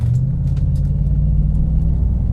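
A 1991 Bentley Turbo R with a 3-speed gearbox at full throttle from a standstill, its engine booming in a deep, loud, steady rumble heard from inside the cabin, with no talk.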